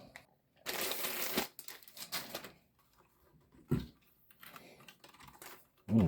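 Typing on a Logitech Comfort MK345 keyboard with tactile feedback, a dense run of close, moderately loud keystrokes followed by a few scattered taps, with brief speech around it.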